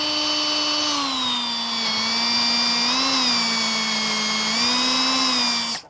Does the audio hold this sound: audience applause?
no